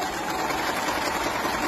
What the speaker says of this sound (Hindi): सबसे पहले मैं इसका जो है पिको करके दिखा देता हूँ।